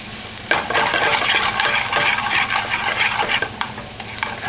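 Chicken cacciatora ingredients are stirred in a hot pan, a spoon scraping and clacking repeatedly over a steady close sizzle, with no talking.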